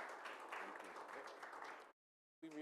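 An audience applauds at a city school board business meeting, a dense, faint patter of clapping that stops abruptly, followed by silence and a brief voice.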